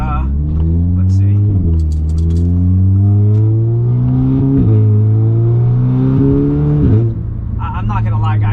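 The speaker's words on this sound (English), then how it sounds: "just give the car a couple of rips and just see how it does on some little windy roads over here" A big-turbo Audi S3 with an EQT Vortex XL turbo accelerates hard on winding roads, its engine note climbing through several gears with brief shift dips, loud from inside the car, a turbo whoosh near the end.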